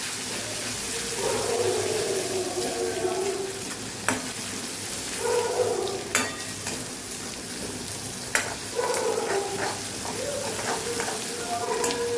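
Ginger, chili and garlic paste sautéing in a pan, a steady close sizzle with scattered sharp scrapes and clinks of stirring over about twelve seconds, while a voice talks quietly over it.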